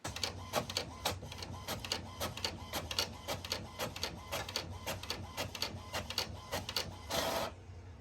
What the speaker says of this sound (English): Let me go ahead and hit print, send it to the printers.